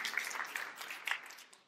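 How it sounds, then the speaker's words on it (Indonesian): A church congregation bursts into brief, dense applause, a bright mass of overlapping claps that fades slightly toward the end. "Tepuk tangan yang meriah untuk kemuliaan nama Tuhan"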